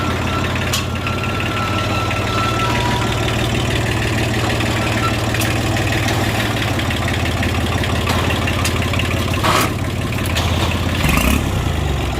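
A Daedong L2202 tractor's diesel engine, left unused for two years and prone to stalling on slopes, idles steadily and close by, a low, rumbling chug that holds even throughout with a few faint clanks and knocks on top.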